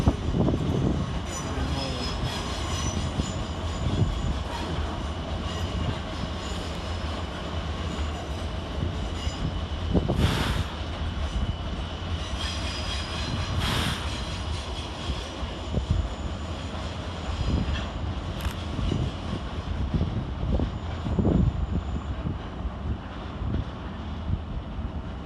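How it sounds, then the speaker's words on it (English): A pair of coupled Class 455 electric trains departs London Waterloo on a far platform, a steady rolling rumble and motor whine with intermittent clunks and squeals of wheels over track, heard amid station ambience and occasional talk. "Departed over on the far side is 455711 and 455710, working the 1336 Southwestern Railway service to Hampton Court."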